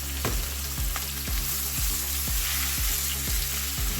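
Ingredients for a Kerala chicken curry sauté in a pan with a steady close sizzle, punctuated by regular soft knocks of a spoon stirring about twice a second.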